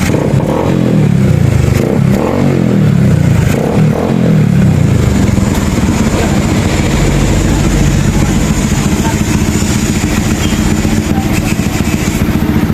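A motorcycle engine runs loudly and steadily up close, with a few rough revs early on and then a continuous rumbling idle.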